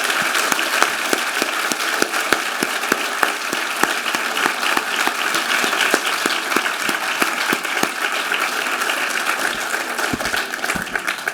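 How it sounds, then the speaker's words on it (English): An audience at a Holocaust remembrance ceremony applauds dignitaries, a steady, sustained wash of many hands clapping with crisp individual claps throughout, continuing without voices. "Let's give a round of applause for all of the dignitaries."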